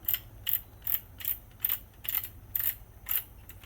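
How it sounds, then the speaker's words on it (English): A torque wrench being wound back to zero after tightening work on a Ford 9.75 rear differential: a quiet, close run of about eight evenly spaced ratchet clicks, alone. "When you're done using your torque wrench, return it to 0."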